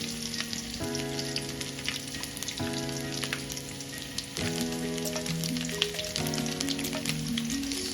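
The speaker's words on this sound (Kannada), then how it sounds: "ಇದನ್ನು ಇವಾಗ ನಾನು ಈ ಥರ ಫ್ರೈ ಮಾಡ್ಕೋಬೇಕು" Chicken frying on low flame with garlic and curry leaves in plenty of oil for a dry chicken pepper dish, a steady crackling sizzle over eight seconds with a few brief spatters, near and unvoiced.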